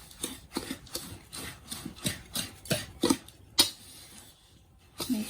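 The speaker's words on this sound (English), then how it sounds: "we're going to just whisk that all together" Seasonings are whisked together in a bowl, a quiet run of rhythmic scraping strokes, about a dozen quick swishes in regular succession, close by with small pauses near the end.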